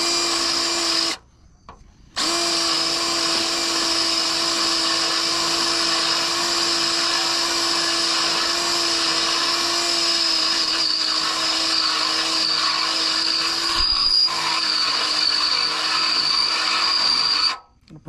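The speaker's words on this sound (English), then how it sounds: "I let the drill bit do the work. I don't press too hard." A power drill bores into the metal frame of a scrap trailer, giving a steady, loud, high whine that runs for most of the time, with one brief pause early on and a cutoff at the end.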